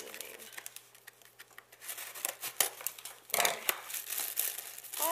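Scissors snipping and paper crinkling as the top of a planner package is cut open and unwrapped, close and busy, with rustling bursts and crackles while a person talks over it.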